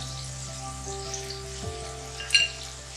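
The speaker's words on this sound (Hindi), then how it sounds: "अब हम फिश डाल देंगे" Fish pieces sizzle and fry steadily in a karahi of softened, broken-down tomatoes, with a continuous crackling hiss, a brief stirring scrape, and a louder spatter near the end.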